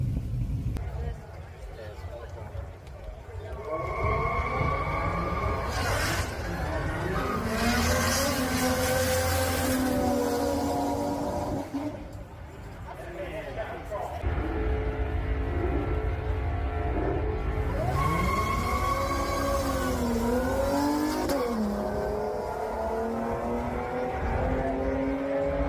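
Catfish, a 9-second Chevrolet Calais drag car, makes a qualifying pass: a loud engine roars and revs through rising gear sweeps, staying near and steady across the run, with voices talking over it.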